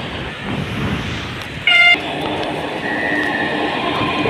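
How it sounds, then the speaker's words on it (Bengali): A metro train rumbles steadily at close range, a sustained broadband roar from start to finish, with a brief sharp tonal horn or signal tone near the middle. "দেখুন এই যে মেট্রো ট্রেন"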